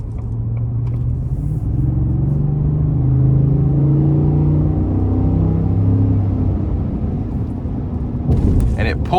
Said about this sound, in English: So we're gonna give it a little throttle here.